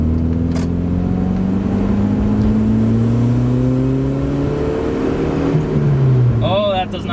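A 1992 Volvo 240 pulls hard at three-quarter throttle, its engine droning loud and strained with rising harmonics throughout, steady and close, with a brief shift in tone near the end.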